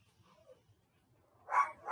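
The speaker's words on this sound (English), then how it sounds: "excuse my dog going crazy" A dog barks twice near the end, two loud close yaps following a near-silent stretch with faint low rumbling.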